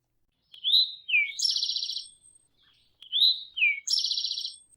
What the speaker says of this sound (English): a rufous-sided towhee called him back to within his body